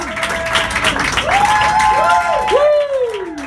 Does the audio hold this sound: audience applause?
yes